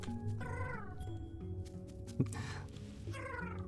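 A synthetic cat-like meowing sound from the video game Hoomanz! rises and falls twice over a steady electronic hum, with a sharp click in the middle.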